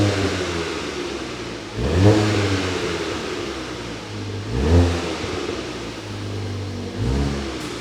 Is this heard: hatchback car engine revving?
yes